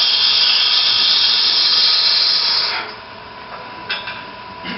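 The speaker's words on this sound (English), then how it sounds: "I'm just rotating the gouge." A wood-turning gouge cuts a sphere on a lathe with a steady, close, high hiss of shaving. The hiss eases off near the end and then returns in brief scrapes.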